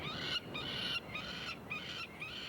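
Nestling birds being banded scream in harsh, shrill, repeated cries that rise and break off in quick bursts, close and sustained over a quiet background.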